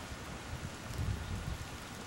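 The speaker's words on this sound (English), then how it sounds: "And it's still raining, actually." Rain falls steadily outdoors, a soft continuous hiss with low rumbling wash, fairly faint and with no voices.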